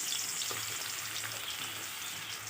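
Crushed garlic and bay leaves sizzle in hot oil in a kadai, a steady, close frying hiss that carries on without a break and with no talking.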